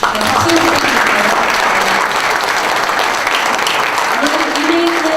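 Sustained applause from an audience at a press-freedom declaration signing ceremony, steady and dense for several seconds, with a voice speaking over it.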